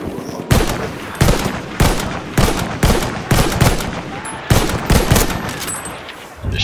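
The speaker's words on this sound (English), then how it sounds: "Shooting a bunch of them" Heavy gunfire in the World War I shooter Battlefield 1, a series of loud, close shots and short bursts spaced roughly half a second apart, with faint battle noise between them and no talking.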